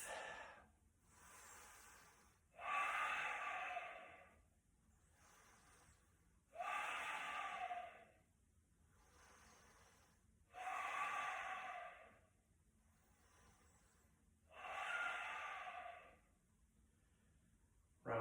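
Slow, deep breaths during a yoga standing balance pose, each long audible inhale or exhale swelling then fading, repeated about five times at an even pace with quiet gaps between.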